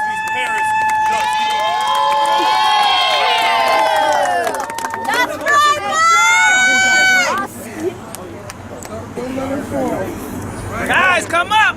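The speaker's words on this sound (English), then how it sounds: "Give a round of applause to these parents." A crowd at the 2017 PFL championship cheers and shouts in celebration of the champion Ducks team, with loud, excited high-pitched voices and yells rising and falling continuously throughout.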